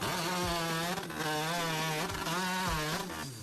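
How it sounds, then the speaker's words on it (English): A chainsaw engine roars steadily, close and loud, its pitch dipping and rising as it bites through wood. "This is what world record-breaking chainsaw work looks like."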